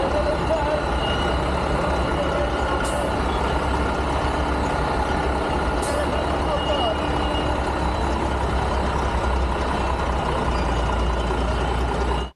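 A 100 ft carnival truck edges round a narrow medieval city street corner with its music off, a steady low engine rumble running throughout, faint beeps and a brief high hiss around three and six seconds, and voices murmuring underneath.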